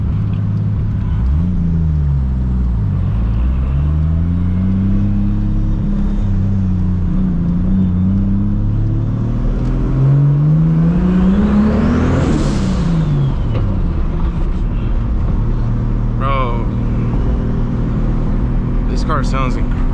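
A 1000-horsepower MKIV Toyota Supra pulls hard through several gears, its engine pitch climbing and dropping with each shift, loud and close throughout, peaking in a sharp high-revving scream midway, with some talking beneath.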